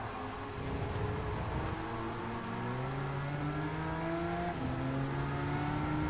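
A 2001 Porsche 996 911 GT3 in Gran Turismo 7 during a Le Mans-style race, its engine note climbing steadily through the revs with a drop at a gear change, a continuous close, moderately loud drone.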